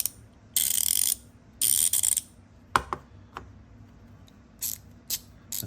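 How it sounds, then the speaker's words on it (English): A Ramset or Harbor Freight thumbwheel ratchet gives loud, close bursts of rapid clicking, two long runs and then several shorter spurts, with sharp single clicks in the quiet gaps. "That's probably the loudest ratchet I own."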